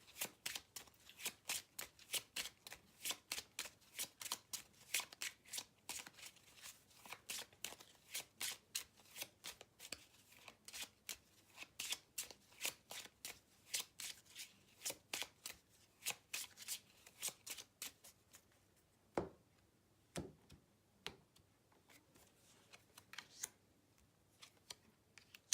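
Tarot cards are shuffled by hand in a quiet room with rapid, repeated riffling bursts throughout, slowing at the end to a few isolated card snaps and taps.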